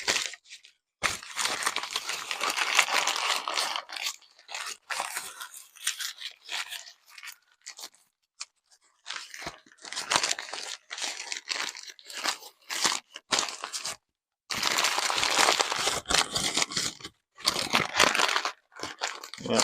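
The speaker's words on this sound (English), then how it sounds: "we're just going to give it a little bit of paper wrap here" Paper being wrapped around a turntable counterweight for shipping: close, loud crinkling and crunching in repeated bursts separated by short pauses.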